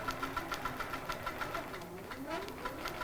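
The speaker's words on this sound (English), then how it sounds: "And now it's going to engage and start quilting my design." A computerized quilting machine stitches a design at slow speed, giving a quiet, steady rhythm of quick mechanical ticks over a low motor hum.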